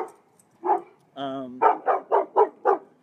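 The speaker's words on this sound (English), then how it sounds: "And then we have a puppy." A puppy nearby lets out a whine and then a quick series of five short, sharp yappy barks in an even rhythm, close and clear.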